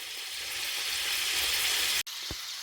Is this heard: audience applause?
no